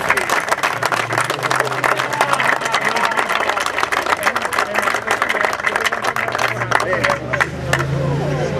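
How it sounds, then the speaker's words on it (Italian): Steady applause from a crowd at a match fishing cup prize-giving fills the whole stretch, dense and continuous with a low hum running beneath it. "Applauso al vincitore, ragazzi"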